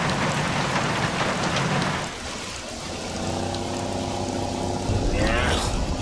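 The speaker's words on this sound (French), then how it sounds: "La pluie fait des claquettes." Steady rain pours down with a dense hiss in the Bee Movie video game, while a low engine-like drone and a faint rising tone sit underneath.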